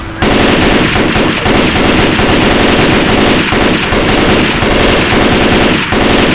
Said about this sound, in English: Got a goddamn M16 assault rifle.